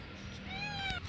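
A cat gives one clear meow that falls slightly in pitch, close and fairly loud over a quiet room background, lasting about half a second with no talking.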